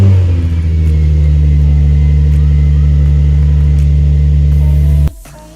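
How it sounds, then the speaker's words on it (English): Nissan 350Z engine idles with a deep, loud rumble that rises with a rev, holding steady for several seconds before cutting off abruptly near the end. "Gonna have to be when I turn on the car"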